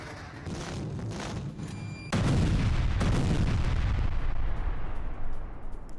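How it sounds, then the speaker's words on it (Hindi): MLRS rocket strikes on Ukrainian positions produce a heavy rumbling barrage of explosions, with a sudden louder blast midway followed by sustained booming roar. "एमएलआरएस से किया गया विध्वंसक हमला, शॉट देखिए जरा"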